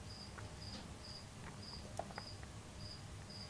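Crickets chirp in a steady, evenly spaced rhythm at a distance, faint over a low background hiss, with a few soft clicks.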